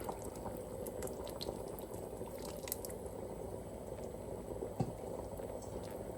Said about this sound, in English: Then I cover it for it to cook for like 10 to 20 minutes. Can you hear that?